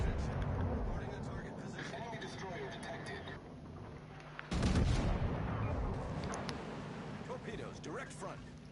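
German tier 8 destroyer Z-44 fires an HE broadside in World of Warships, a heavy booming salvo about halfway through over continuous naval battle noise, with someone talking throughout.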